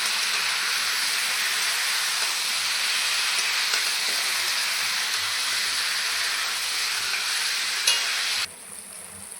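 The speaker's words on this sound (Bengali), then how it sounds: "ওই তেলেই আমি মাংস দিয়ে দেবো মাংসগুলো ভেজে নেব" Chicken pieces frying in hot oil give a loud, continuous close sizzle and hiss with faint stirring, cutting off abruptly near the end, with no voices.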